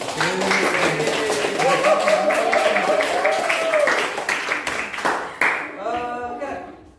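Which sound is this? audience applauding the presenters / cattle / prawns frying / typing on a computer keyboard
audience applauding the presenters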